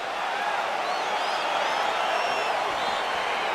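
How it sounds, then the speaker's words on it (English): Arena crowd in the fighting game UFC 4 at the start of a bout, a steady wash of cheering and whooping with a commentator's voice running over it. "crowd getting excited as this fight gets underway"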